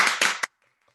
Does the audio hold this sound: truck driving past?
no